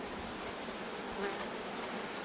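Honeybees buzz steadily around painted styrodur hive bodies in an apiary after light rain, a continuous soft, even hum with no voices.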